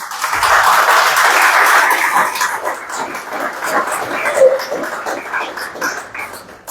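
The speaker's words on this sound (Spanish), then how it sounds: "denle un aplauso al Señor" A church congregation claps for the Lord during a Spanish-language sermon, a dense wash of hands that is loudest at the start, then thins and fades over several seconds, with a faint low thump near the beginning.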